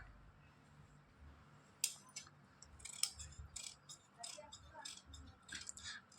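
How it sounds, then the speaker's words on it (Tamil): Scissors snip through cotton silk cloth while a blouse sleeve is cut, giving a run of quiet, crisp clicks and slicing sounds in irregular bursts over a faint background hum. "இது வந்து நான் ஸ்லீவை இப்போ கட் பண்ணிகிட்ருக்குறோம்"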